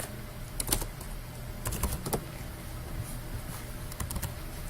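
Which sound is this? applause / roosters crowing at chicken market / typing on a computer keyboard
typing on a computer keyboard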